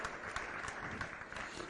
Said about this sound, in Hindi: तालियां बजाकर गौरव करिए, आपने ऐसी प्रतियोगिता में हिस्सा लिया है